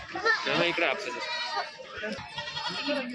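Goats bleat in wavering cries amid a busy crowd at a goat market, with people talking over and around them throughout.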